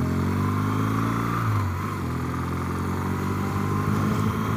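A motorcycle ridden across a steel grate bridge makes a steady engine drone whose pitch dips briefly, then holds on with a rough, humming texture.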